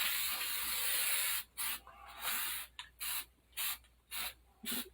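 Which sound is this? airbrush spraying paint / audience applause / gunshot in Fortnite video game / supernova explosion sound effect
airbrush spraying paint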